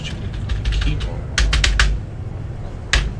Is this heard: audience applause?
no